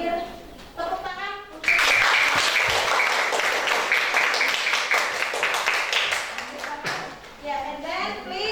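A classroom group breaks into loud, dense clapping for the final group's presentation, sustained for several seconds between bits of an adult's talk at the start and end.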